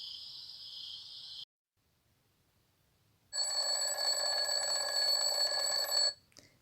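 An alarm clock rings in two loud, continuous electronic bursts separated by a few seconds of near silence, shrill and close.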